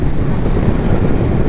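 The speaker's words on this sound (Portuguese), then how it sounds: "Um pouco inclinado para evitar um pouco de barulho de vento." Wind noise buffeting the microphone while riding a 2020/21 Yamaha Tracer 900 GT motorcycle with a low windscreen, a loud continuous low roar with no speech.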